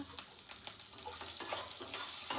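Green chillies fry in a pan with a faint, steady crackle and sizzle and a few soft stirring scrapes, quiet and continuous with no voices.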